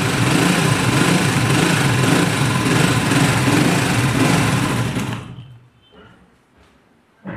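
A small motorbike engine running with a steady high-pitched drone for several seconds, then cutting off abruptly, followed by faint clicks and quiet.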